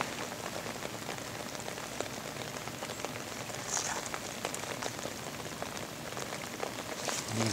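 Rain falls steadily on a riverside during a September fishing trip in Romania, a soft, even patter with faint scattered drops and no voices.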